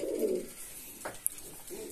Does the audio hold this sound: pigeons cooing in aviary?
yes